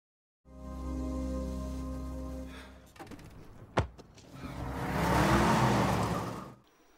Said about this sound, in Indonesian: Akhirnya ia pun menggunakan mobil yang bertabrakan dengannya.